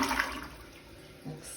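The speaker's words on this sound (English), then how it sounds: "We're gonna try flushing." A Project Source toilet from a complete toilet kit, freshly installed, flushes with a steady rushing gush of water that swells slightly near the end, heard alone without talk.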